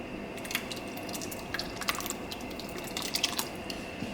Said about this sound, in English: I'm gonna add some of the chickpea broth that you know I had taken out